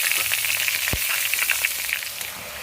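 Potato and capsicum fry with cabbage in a pan, giving a dense, steady sizzle up close with a sharp knock near the start and light stirring crackles, no voices.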